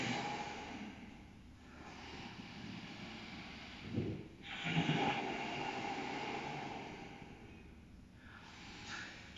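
Long, deep breaths during a yoga pranayama practice, slow airy inhales and exhales swelling and fading alone over steady background hiss, one stronger breath near the middle.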